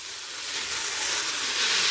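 Snake gourd with soaked, roasted dried field beans frying in a pan, a steady close hiss of sizzling that swells slightly over two seconds.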